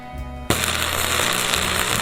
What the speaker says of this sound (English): And then welded the other side of the disc.